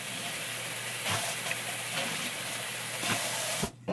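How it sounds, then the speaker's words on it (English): Dishes washed at a kitchen sink, a loud steady hiss of running tap water with faint clinks of dishes, then a sudden stop as the tap shuts off near the end. "So I'm just gonna do some dishes."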